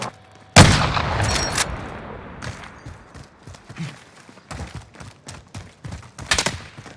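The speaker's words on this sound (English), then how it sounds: "I'm under fire" Video game gunfire, one sharp loud shot followed by a spread of scattered, fainter shots and thuds at irregular intervals, some near and some distant.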